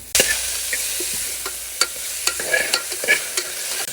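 A single tomato, cut up, stirring and frying in a pan, with steady sizzling and scattered scraping clicks of a spoon against the pan, close and fairly loud, with no talking.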